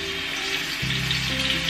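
Tilapia is laid into hot cooking oil in a wok. A steady, close, loud sizzle and crackle swells as the fish goes in.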